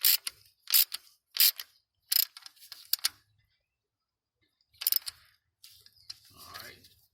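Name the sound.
ratchet screwing in supercharger belt tensioner bolt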